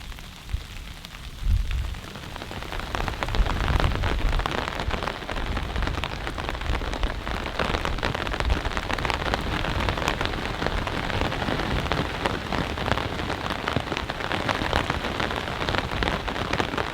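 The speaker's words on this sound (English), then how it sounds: "The Ranch Fire tent has gone through many hours of freezing rain and sleet" Freezing rain and sleet pelt a NatureHike Ranch Fire tipi hot tent, a dense, steady crackling patter on the fabric that builds after a quieter start and holds loud and close for the full length, with no voices.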